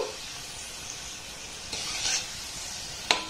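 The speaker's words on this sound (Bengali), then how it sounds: "এবার যেগুলো এই মিষ্টি শেপ দিয়েছি সেগুলো তেলের মধ্যে দিয়ে দেব। খুব বেশি দেব না, অল্প অল্প দিয়েই আমি ভেজে নেব।" Small shaped flour-dough sweets with baking powder are lowered into hot oil, giving a soft, steady sizzle with occasional scraping stirs and a sharp clink near the end, fairly quiet and close.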